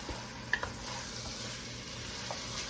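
Dirty rice stirred in a pot, a soft low sizzle running steadily with a couple of faint spoon scrapes and clicks, quiet and close, no talking.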